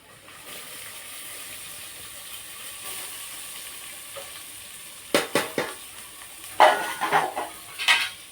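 Green onions and chili stirred into a pan while frying, with a steady sizzle throughout and several louder scraping, stirring clatters toward the end; no talking.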